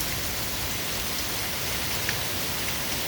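Heavy rain pours steadily outdoors at a residential yard, a dense, even hiss of drops on surfaces with no talking.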